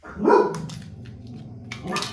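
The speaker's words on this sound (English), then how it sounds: "My apologies, the dogs." Dogs barking indoors, one loud bark right at the start followed by quieter growling and a second burst of barking near the end.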